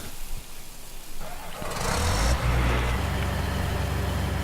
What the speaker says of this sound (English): I really like how the S790 starts off, the sound of the engine on it.